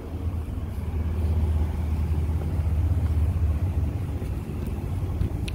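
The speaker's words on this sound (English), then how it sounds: "And that V6 is running smooth." A 2015 Infiniti QX60 3.5-litre V6 AWD idles with a steady, smooth low rumble, close and even, with no talking.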